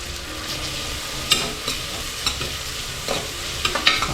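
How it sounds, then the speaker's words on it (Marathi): Onions for chicken biryani fry in a pan, a steady close sizzle punctuated by several sharp scrapes and taps of a spatula as they are stirred, with no one talking. "कांदा छान ऑरेंज होईपर्यंत करून घ्या आणि थोडंसं मीठ घालून घ्या"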